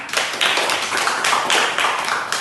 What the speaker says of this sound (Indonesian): tepuk tangan dulu untuk Haikal